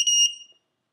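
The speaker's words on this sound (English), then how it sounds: "So now you hear it beep when I arm." A Diatone Tyrant racing drone's flight controller gives a short pair of high electronic beeps when armed, close and clear against near silence, fading out within half a second.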